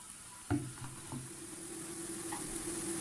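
Mushrooms added to onions already browning in a pan, for a cream-free mushroom soup, giving a steady close sizzle with a sharp clatter near the start as they go in, then stirring noises.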